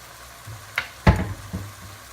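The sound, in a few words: garlic cloves frying in a pan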